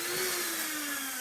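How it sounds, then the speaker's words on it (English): A handheld electric mixer whirs steadily while beating cream cheese for pimento cheese spread, a loud continuous motor drone with a slowly falling pitch and no talking. "Now I have my handy dandy hand mixer"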